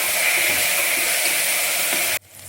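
Tomato and onion sautéing in a pan for beetroot salna, with a steady loud sizzle that cuts off abruptly near the end.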